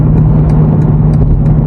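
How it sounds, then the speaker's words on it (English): A BMW F90 M5 Competition's twin-turbo 4.4-liter V8 rumbles loud and close, a steady deep drone with slight throttle swells, driving through New York City traffic. "God, I love how this V8 sounds."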